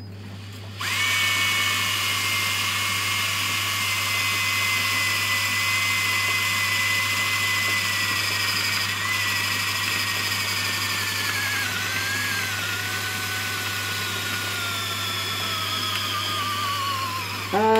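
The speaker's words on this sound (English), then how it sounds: "Drill was just about to run out on me as well." A cordless power drill bores holes into an Amano aquarium tank, running steadily close up with a high whine that shifts pitch as it cuts, then spins down near the end as the battery fades.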